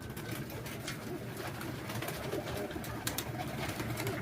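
Pigeons bathing in a water bath with coarse salt, cooing steadily amid a continuous rustling, splashy background with no voices.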